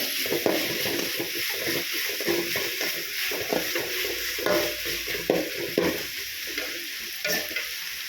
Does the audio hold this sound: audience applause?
no